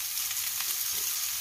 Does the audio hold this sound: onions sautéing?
yes